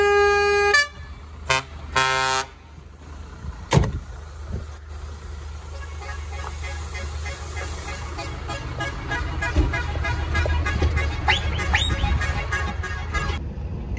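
Vehicle horns from a convoy of adventure vehicles arriving at the 2023 adventure vehicle show, several loud honks and toots in bursts at the start, then continuous engine and road rumble with scattered horn blasts near the end.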